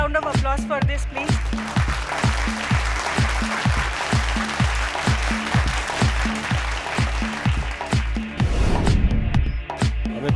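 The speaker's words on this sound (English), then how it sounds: "A big round of applause for this, please." Audience applause fills an awards ceremony hall, steady and sustained throughout, with a strong rhythmic music beat pounding underneath and a brief louder swell near the end.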